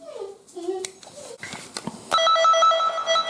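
A LAN tester and wire tracker is switched on, first some handling clicks and taps while someone talks, then a loud, steady electronic tone with a warbling, ringing quality takes over.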